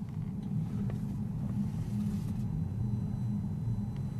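A car pulls into a BMW dealership on Stirling Way, its steady low engine rumble and road noise continuous and fairly close throughout, with no talking.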